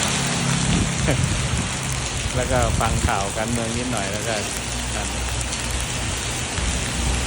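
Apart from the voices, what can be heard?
rain falling during a storm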